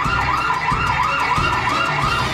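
A loud alarm siren wails without a break, its tone rising and falling in a quick repeating cycle with a low rumble beneath; no voices.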